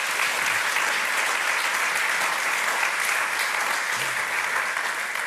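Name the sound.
round of applause at an institute's official opening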